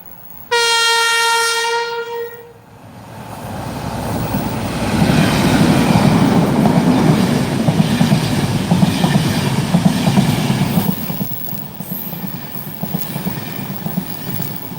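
A DD diesel locomotive on the northbound Enterprise passenger service in Adelaide arrives with a loud horn blast, then a rising rumble of engine and wheels as the train rolls past close by, with clattering and a faint squeal toward the end.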